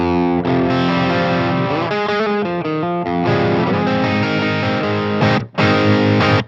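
Electric guitar through a Diezel-voiced distortion setting with treble and presence pulled back gives a darker, thick crunch. It plays loud sustained chords and a choppy riff, with a brief pause near the end.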